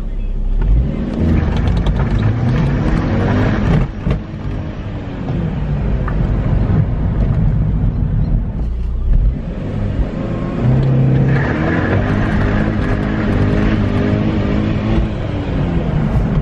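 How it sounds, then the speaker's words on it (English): A Saab with a B205 engine spins its tires in first gear, giving a loud, sustained engine roar with steady road and tire noise heard from inside the car, and no talk. "it will definitely spin the tires in first gear"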